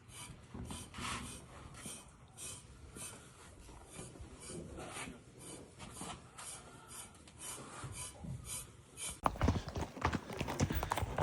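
Horse hooves clopping and shuffling on a hard surface while the horse is being saddled, with scraping and rubbing of tack, fairly quiet and close, growing louder and busier toward the end.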